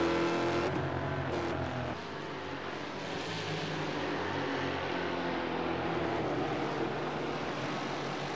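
A race car engine in a sim racing game drifting through the Malmedy section of Circuit de Spa GP, a loud sustained engine drone with shifting pitch held throughout, with no break in the roar.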